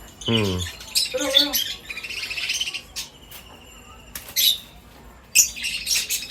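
Exotic pet birds in a bird farm squawk and chirp up close in loud, sharp bursts separated by short pauses, with a faint insect-like buzz running underneath.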